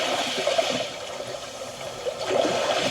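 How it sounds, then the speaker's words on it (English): Steady watery wash with soft swells rising and falling, a continuous calm surge of water without speech. "Calm sea waves."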